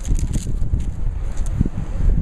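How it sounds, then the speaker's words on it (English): Gusty outdoor wind buffets the microphone, making low rumbling thumps and rushing noise in uneven bursts throughout. "it's a little windy."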